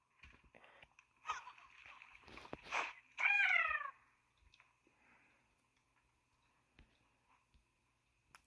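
A black cat meows in a video game: one short, clear, rising meow in the middle, preceded by scattered clicks and soft noises, with quiet ticking after.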